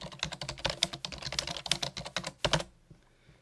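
Keys on a computer keyboard clatter in a quick, irregular run of taps, close and fairly quiet, stopping abruptly near the end.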